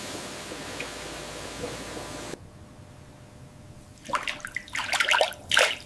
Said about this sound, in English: The slices are rinsed to remove excess starch.